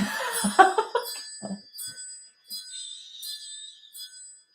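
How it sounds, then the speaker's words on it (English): Wind chimes ring in light, bright tones: a small cluster of strikes at the start, then single chimes spaced out and fading gently, fairly quiet and with no talking. "Let's call in spirit with a little bit of wind chime time."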